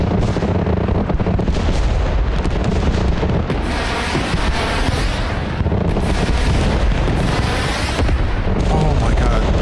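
Gunfire and explosions from the video game Broken Arrow, with dense, continuous booms and shots that stay loud from start to finish as one thick wall of battle noise.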